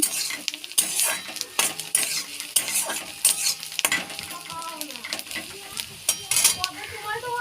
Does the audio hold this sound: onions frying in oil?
yes